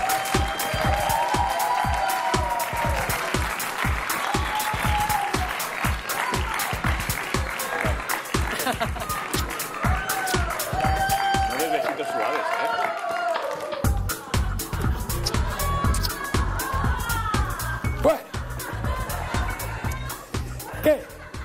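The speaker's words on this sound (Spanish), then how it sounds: "Bueno, un aplauso, por favor, para..." A television studio audience claps in a dense stream of hand claps, mixed with cheering, laughter and chatter, as people talk over it.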